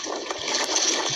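Sea waves and strong wind on open water, a steady broadband rush of water and gusting air that fills the short moment without pause.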